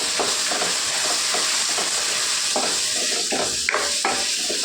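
Raw mango rice mixture sizzles and fries in a pan with steady hissing, while a spoon scrapes and stirs it in repeated strokes, close and loud.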